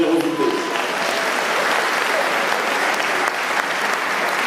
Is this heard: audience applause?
yes